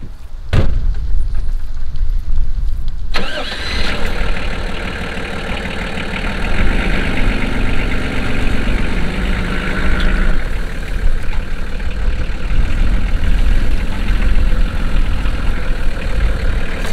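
Camper van engine idling while it creeps forward to park at a lakeside campsite in Croatia, a steady low rumble close by after a sharp knock at the start, with the pitch shifting slightly as it moves.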